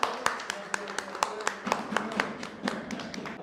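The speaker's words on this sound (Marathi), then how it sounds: "त्याच्यासाठी सगळेजण आपण टाळ्या वाजवूया।" A group claps for a friend at a 1985 tenth-grade batch school reunion get-together: a sparse, moderately quiet round of individual claps in an irregular rhythm, over a faint room murmur.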